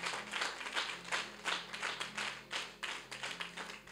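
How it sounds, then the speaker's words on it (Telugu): A church congregation at a prayer blessing meet in Armoor claps in a steady, even rhythm, roughly two or three claps a second, faint and somewhat distant over a low background hum. "చప్పట్లు కొడదాం"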